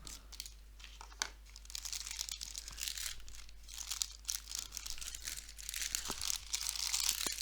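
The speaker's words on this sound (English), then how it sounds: "I'm going to use the scissors" Plastic toy packaging from a Blox brick set crinkles and crunches steadily as scissors cut it open, a close, continuous rustling with small snips and crackles and no talking.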